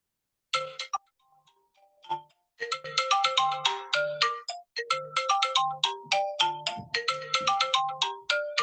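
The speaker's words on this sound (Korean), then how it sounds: "전화가 갑자기 왔네요." A phone ringtone from an incoming call plays a repeating melodic chime pattern, starting briefly, pausing, then ringing on in steady loud bursts with no talking over it.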